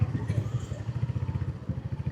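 A motorcycle rides along a rain-soaked, muddy road, its engine thrumming in a steady, pulsing putter that stays close and fairly loud for the whole stretch.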